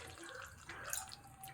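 Water is poured into a pot of chicken curry, a faint, soft trickle and splash with light dripping, heard close and alone.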